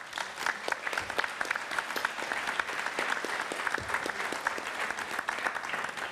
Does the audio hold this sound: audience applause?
yes